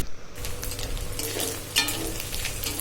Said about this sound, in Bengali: আমি এবার চিংড়ি মাছটা ছেড়ে দিলাম, যে লাল লাল করে ভেজে নেব।